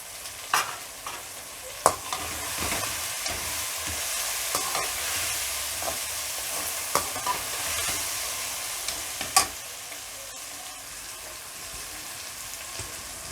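Fried okra (bhindi) is stirred in a hot pan, giving a steady close sizzle with scraping spoon strokes and occasional sharp clinks against the pan.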